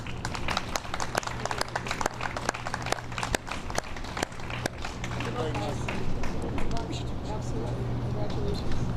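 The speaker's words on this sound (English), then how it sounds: "A round of applause for Burdines" Applause from an audience at a neighborhood grant finalists event, dense clapping that builds early, then thins into a steady, softer patter with crowd noise toward the end.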